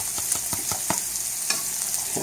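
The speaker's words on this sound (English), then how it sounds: "Now I'm going to throw the mushroom stems in, because we want to saute those as well." Mushroom stems sauteing with bacon in a pan, loud close sizzling broken by a quick run of scraping stirs, spatula strokes landing roughly every fifth of a second before the hiss evens out.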